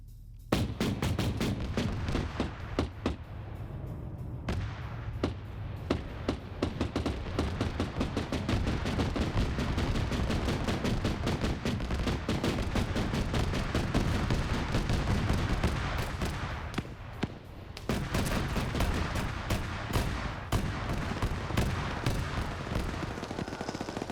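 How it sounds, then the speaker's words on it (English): Autocannon fire in a video game PvP match comes as a loud, dense stream of rapid shots. The bursts run almost continuously, with only a brief gap in the middle. "Come on, autocannon, don't let me down here."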